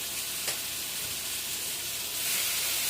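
Salisbury steak patties browning in a hot pan give off a loud, steady sizzle and frying hiss that fills the clip without pause, with no talking.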